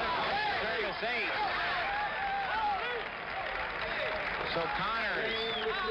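Crowd applause rolls steadily at a 1975 Las Vegas challenge tennis match, Newcombe against Connors, a broad sustained clapping wash with excited voices and shouts mixed through it for the whole stretch.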